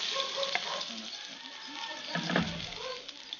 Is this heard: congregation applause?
no